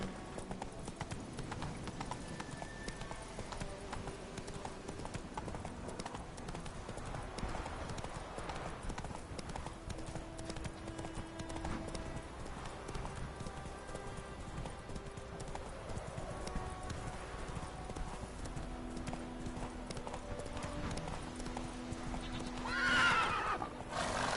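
Horse galloping in The Witcher 3: Wild Hunt, hooves clip-clopping in a steady rolling rhythm over game music, with a whinny near the end.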